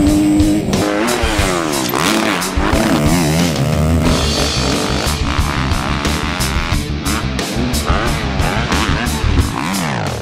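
A 2013 Kawasaki KX250F motocross bike roars loudly and continuously while being ridden, its engine pitch rising and falling through revs and gear changes, close and steady throughout with no talk.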